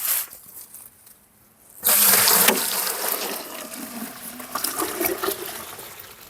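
Maple sap spills out through the side holes of a collection bucket, a sudden bright splashing rush that starts after a quiet moment and keeps pouring steadily outdoors, fairly close.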